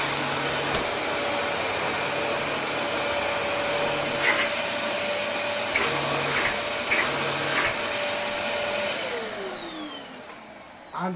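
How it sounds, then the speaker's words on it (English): Dyson DC33 vacuum cleaner motor running with suction, a loud high-pitched whine with a steady drone and a few brief fluttering changes, then the motor is switched off and winds down near the end. "We tested the motor runs, and we'll turn it on."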